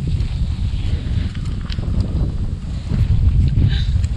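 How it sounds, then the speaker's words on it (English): Wind gusts across a hilltop on the Lahaina Pali hiking trail near wind turbines, a steady low rumbling buffet against the microphone that swells louder toward the end, with no voices. "And sweet, sweet wind."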